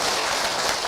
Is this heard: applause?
yes